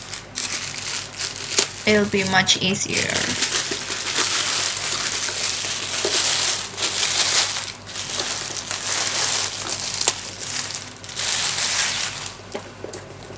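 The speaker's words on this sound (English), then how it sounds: "I'm just going to use my scissors to open it" Scissors cut and crinkle open a tightly sealed, sturdy package, with steady close crackling and crumpling of plastic wrap running throughout while someone talks over it.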